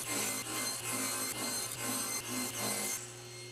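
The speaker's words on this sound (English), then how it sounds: "I'm gonna use my thin strip jig to slice 6 slices off of each one of these blocks." Wood blocks being sliced into thin 1/16-inch strips on a thin strip jig, with steady sawing passes repeating about every half second, loud and close, no talk.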